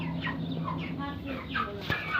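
Chickens cluck indoors in a large room used for raising poultry, several short, close clucks and calls coming in quick succession, with a person's voice faintly in the background.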